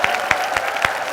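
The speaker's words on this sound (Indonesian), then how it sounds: "kasih tepuk tangan yang paling meriah buat Nigel" Audience applause on a game show stage, a steady wash of clapping with a few sharper claps standing out, close and fairly loud, with no talking.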